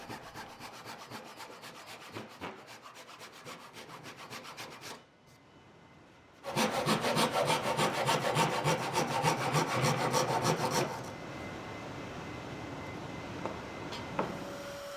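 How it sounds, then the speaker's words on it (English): Hand saw cutting through wooden puzzle pieces, a steady run of rapid back-and-forth rasping strokes that pauses briefly, then resumes louder and closer before easing into lighter scraping, with no talking. "Then a little sawing, staying slightly outside of the lines."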